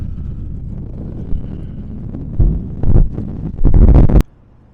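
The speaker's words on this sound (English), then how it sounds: "Really windy." Strong gusty wind outdoors near snowy mountains, buffeting the microphone in low rumbling bursts that swell and peak before dropping off abruptly, no talking.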